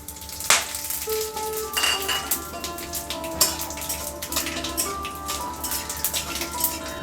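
Whole spices sizzle in hot mustard oil for a vegetarian chana dal, with cardamom pods, a little cinnamon, a dried red chilli and cumin seeds dropped in, giving a steady crackle with sharp pops and clinks close by.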